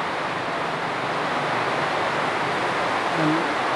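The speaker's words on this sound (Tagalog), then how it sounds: "Bira talaga ulan, lakas oh." A heavy downpour of rain on a rainy day, a continuous loud wash of falling water, steady throughout with a faint low murmur near the end.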